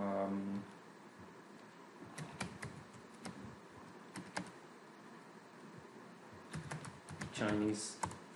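Keystrokes tap on a computer keyboard in short bursts and scattered clicks, close and fairly quiet, with a brief voice at the start and end.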